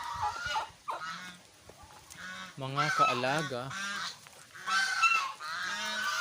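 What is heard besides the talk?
geese honking loudly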